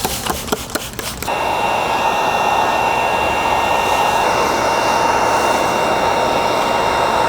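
A heat gun blows steadily at close range over taillight tint film on a 2017-2022 Honda CR-V, a loud, continuous hot-air whoosh with a faint whine that starts after a second of brief taps and rustling.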